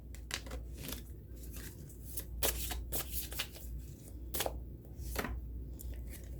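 Tarot cards being shuffled and drawn, a string of quick crisp riffling bursts and soft slaps at irregular intervals, close and fairly quiet, with no talking.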